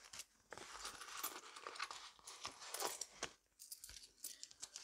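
Coins are counted out of a budget envelope, with quiet clinks and jingles in short bursts and small pauses between handfuls, close up and faint.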